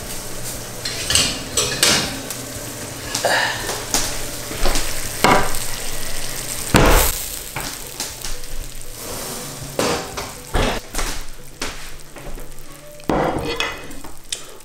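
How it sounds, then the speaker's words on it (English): Steady sizzling and crackling of spinach in tomato sauce in a hot pan, with scattered clinks and scrapes of utensils against cookware throughout. "Sizzling hot."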